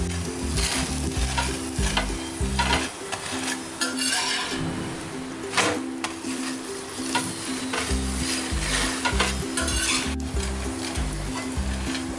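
A large stuffed egg bhurji paratha cooks on a hot pan, its edges sizzling steadily while a spatula scrapes and rubs against the surface in repeated strokes. No one speaks.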